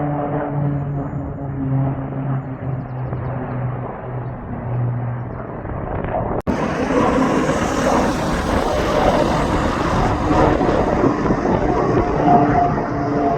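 At the RAF Valley airbase in North Wales, an RAF aircraft passes with a steady droning engine that swells abruptly into a loud, broadband jet roar, heard from a distance without talk.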